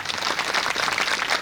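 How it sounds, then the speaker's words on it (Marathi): An audience at a kirtan gathering applauds a boy kirtan performer, a dense burst of many hands clapping steadily and fairly close, with no talking. "भावेश महाराज भोकनळ या मुलासाठी एकदा टाळ्या वाजवा"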